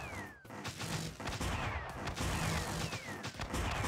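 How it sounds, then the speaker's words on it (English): Mortar towers firing in the tower defense game Super Sanctum TD, survival mode: a steady barrage of booming, crashing blasts, with a few whistling descending shells, loud and continuous with no pause. "The mortars are doing a lot of damage when they get to this point."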